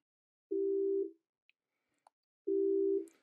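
Two computer-generated steady tones sound simultaneously as a chord, in two identical bursts of about half a second each, separated by a short gap with faint clicks, clean and synthetic.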